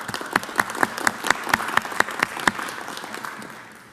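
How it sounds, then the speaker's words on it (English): Round of applause at a city council meeting, a modest group clapping with distinct individual claps standing out, gradually thinning and fading toward the end. "Let's give him a round of applause."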